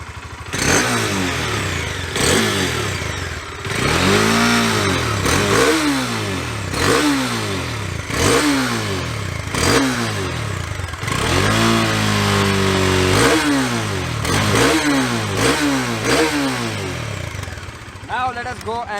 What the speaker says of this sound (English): Let me crank this motorcycle up for you and let us check this out